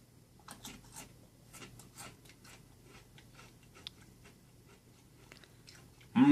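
Pringles Chile Lime chips are bitten and chewed close to the mic, a series of sharp crunches followed by softer rhythmic munching, with no talking over it.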